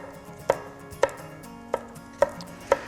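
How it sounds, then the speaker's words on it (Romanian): A knife coarsely chops garlic cloves on a board, making five sharp, evenly spaced knocks about half a second apart and heard alone up close. "La fel să le tăiem grosier așa."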